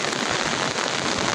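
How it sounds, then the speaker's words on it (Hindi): Heavy rain pours down in a dense, loud, continuous roar of drops pattering on surfaces nearby, with no voices. "अब बताओ, इतनी सारी बारिश हो रही है"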